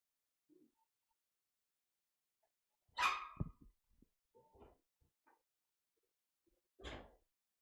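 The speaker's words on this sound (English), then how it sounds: "Sounds like a dog yipping." A dog yips in a few sharp, short barks, mostly faint and distant, at a high school basketball game between Salem and Hidden Valley, with quiet gaps between the yips.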